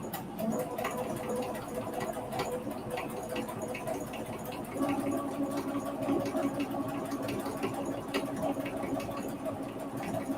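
A domestic sewing machine embroidering fabric runs nonstop, its motor whirring and needle pattering steadily at close range with no talking.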